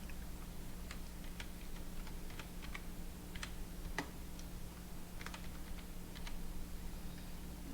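Quick, irregular taps on a computer keyboard, close and fairly soft, over a steady low hum from a desk setup.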